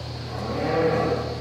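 A dairy cow on a farm gives a single drawn-out moo that swells in the middle, sitting over a constant low mechanical hum from barn equipment, with no one speaking.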